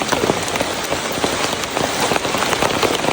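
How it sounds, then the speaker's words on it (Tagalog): Heavy rain pours steadily, a dense hiss of drops pattering on a nearby surface with no pauses. "Umuulan. Lakas ng ulan."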